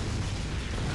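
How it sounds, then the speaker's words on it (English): A levee blows up in the Unreal Tournament 3 video game, giving a sustained, loud, broadband rumbling blast that fills the whole second without a break. "That's the levee blowing up."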